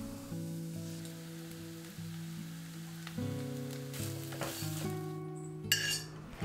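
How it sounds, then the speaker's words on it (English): Potato stuffing with jeera seeds, chopped onions, green chilies, mashed boiled potatoes, salt and turmeric frying in oil in a karai, giving a steady soft sizzle with occasional stirring scrapes beneath prominent background music. "To the oil, I added some jeera seeds, chopped onions and green chilies, then the boiled and mashed potatoes with some salt and haldi."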